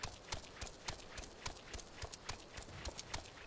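Horse hooves clip-clopping steadily as a mount is ridden in Final Fantasy XIV, an even quick rhythm of soft thuds, fairly quiet and alone.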